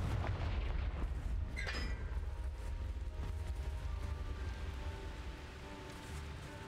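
A Confringo fire spell explosion in Hogwarts Legacy booms in a low, rumbling blast that rolls and crackles on for several seconds, with a brief sharp crackle near the start and no talking.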